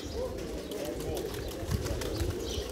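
Pigeons, including crested pigeons, cooing and flapping around a loft, a steady low murmur of calls with occasional wing flutters, mixed with faint background voices.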